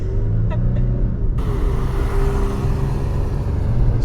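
A tuned Toyota Tacoma truck accelerates hard up a hill; its engine roar is steady and loud, then swells into a broader rush partway through.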